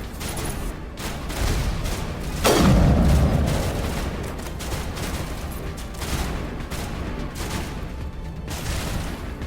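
Sniper rifle shots in the Mass Effect game: one big booming report with a long rumbling tail near the start, followed by a dense spread of fainter gunfire and impacts throughout.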